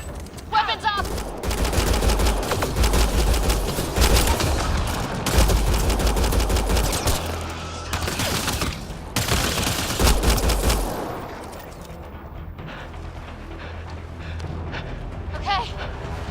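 Mass Effect Andromeda gunfight with heavy, sustained automatic gunfire and booming blasts that fill the first eleven seconds, then thin out to scattered shots as a voice speaks over the combat.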